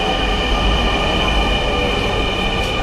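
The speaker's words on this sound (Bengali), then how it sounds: "এই যে দেখা যাচ্ছে ট্রেন আসতেছে আচ্ছা আমাদের মেট্রো চলে আসছে" A metro train rolls into an elevated station, a loud steady rumble and whine of wheels and motors filling the platform without pause.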